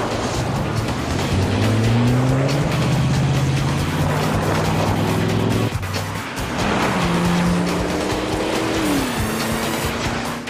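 A sports coupe drives hard in a chase, its engine whining and shifting pitch through gear changes, loud and close, with tire noise throughout and a brief squeal near the end.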